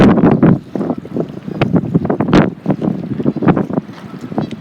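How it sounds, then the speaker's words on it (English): Extreme wind gusting along the Detroit River facing Windsor in light rain, loud buffeting blasts battering the microphone in uneven surges close up. "it's so windy out and there's a little bit of rain."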